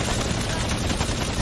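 Continuous rapid gunfire from a video game shootout, a loud, dense stream of shots with no gaps, filling the moment without clear speech.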